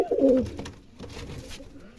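Red dwarf pouter pigeons cooing close by, a low, rolling coo that is loudest at the start and then softens into quieter murmuring over about two seconds, with no talking.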